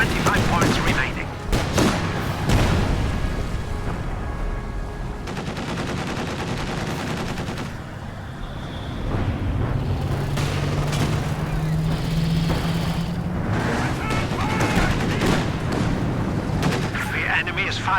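Gunfire and artillery blasts in the video game Company of Heroes 2, with bursts of rapid weapon fire and heavy booms in a busy battle, loud and near, while spoken lines come through in between.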